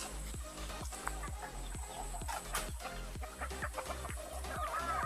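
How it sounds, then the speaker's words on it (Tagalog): Red chicken clucking steadily in a rural yard, a series of close, repeated clucks with a low hum underneath and no talking. "Manok na pula."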